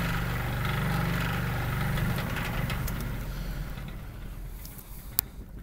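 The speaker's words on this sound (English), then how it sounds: "So you guys see the fan's blowing air into the condenser right now." An Emerson fan blows air into the condenser of a 1965 Fedders Weather Wheel air conditioner, making a steady mid-level mechanical hum that fades gradually, with a sharp click near the end.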